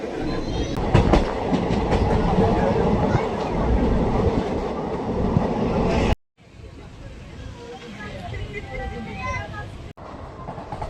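A train rumbles steadily along the tracks with a rhythmic clatter, close and loud, briefly cutting out before the rolling noise resumes, faint voices in the background.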